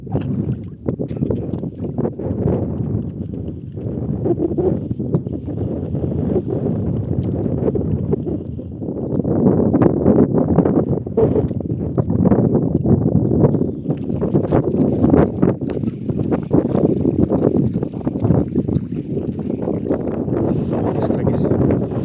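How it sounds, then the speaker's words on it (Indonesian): Wind gusting over open sea on a windy afternoon while jigging from a small fishing boat, a steady broad rumble that swells louder halfway through, with a voice speaking now and then beneath it. "Dengan kondisi cuaca sore ini lumayan berangin"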